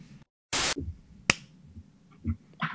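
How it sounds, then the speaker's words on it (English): A single sharp slap, brief and close, followed by quieter shuffling and small knocks. "That's the sound of a face palm."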